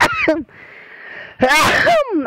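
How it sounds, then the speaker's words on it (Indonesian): A man sneezes loudly and close to the microphone in one sharp burst between stretches of his own speech. "Aduh, sampai bersin saya."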